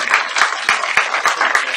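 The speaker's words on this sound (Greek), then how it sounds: "ένα θερμό χειροκρότημα" Warm applause from an audience at an official announcement, a short burst of close, bright clapping with individual claps popping out of the steady patter.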